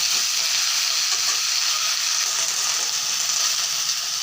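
Pieces of ridge gourd fry in hot oil, giving a steady, close, bright sizzle that hisses continuously without pause.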